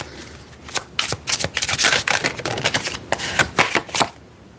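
Cards are shuffled close up, with several crisp, rapid riffling bursts, one after another.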